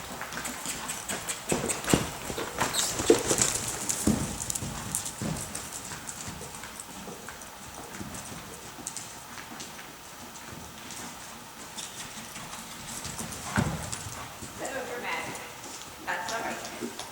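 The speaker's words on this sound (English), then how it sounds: "I might lope to the barrel, but I'm going to try to be a little more precise with my positioning at it." Horse hooves clip-clopping in a rhythmic lope toward a barrel during a riding session, steady beats under a rider's voice, fairly near with some breathy movement noise.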